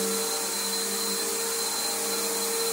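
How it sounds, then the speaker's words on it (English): Bissell Powerforce bagged vacuum cleaner running steadily at close range, a constant motor whine and airflow roar with a sharp high tone, holding level for the whole stretch with no speech. "Oh, this is a great vacuum."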